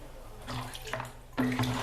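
Salt is stirred into a bucket of water in a bathroom, giving a brief close swishing and sloshing of water that grows louder near the end.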